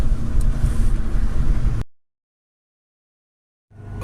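Car engine running steadily and loudly during a test drive, a dense low rumble for nearly two seconds that cuts to silence, then returns briefly at the end.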